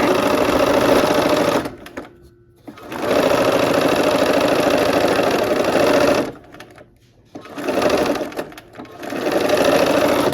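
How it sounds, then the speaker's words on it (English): A sewing machine stitching quilt blocks together runs in three long loud bursts of fast, even mechanical whirring, separated by short pauses, close by and with no talk. "here I am at the machine. We're going to sew these together."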